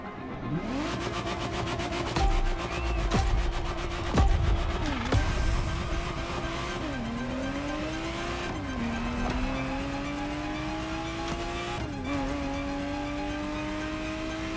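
Ferrari Testarossa in The Crew Motorfest video game, its engine revving hard through repeated up and down pitch sweeps and gear changes, with bursts of tire squeal early on, loud and close throughout.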